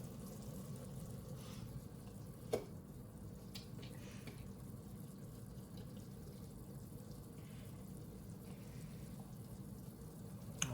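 Hotpot broth bubbling steadily at a rolling boil, a continuous close watery churn with a soft pop now and then, no voices.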